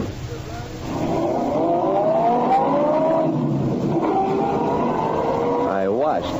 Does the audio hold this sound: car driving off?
yes